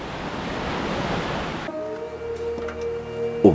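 A loud waterfall on a mountain hiking trail in the Pyrenees gives a dense, rushing roar for about the first half, then cuts off abruptly to quieter, tonal sounds.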